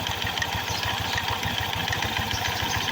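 A Honda Click 125 scooter with a 13.5 degree racing pulley and a loose belt runs on its center stand, its engine chugging in a steady, fast pulsing throb, close and fairly loud with no talk.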